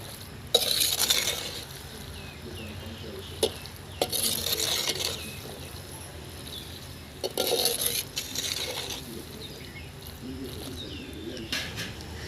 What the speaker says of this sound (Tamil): ரெண்டுத்தையும் சேர்த்து நல்லா மிக்ஸ் பண்ணிவிடுவோம்